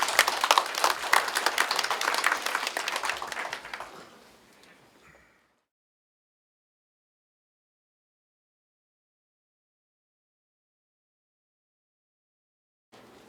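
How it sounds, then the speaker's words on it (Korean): A congregation at a church leaders' association anniversary thanksgiving service in a hotel hall claps loudly for about four seconds, then the applause thins and fades away into silence. "박수 주십시오."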